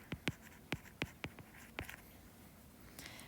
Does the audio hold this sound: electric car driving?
no